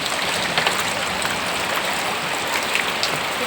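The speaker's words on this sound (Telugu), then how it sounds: "ఇదిగో నీరు చూడండి ఇంట్లోకి ఎలాగొస్తుంది" Heavy rain in Andhra pours down in a dense, steady hiss as water flows into a house, constant and close with no voices.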